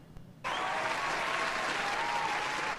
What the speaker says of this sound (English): you could have applause or some other sound effect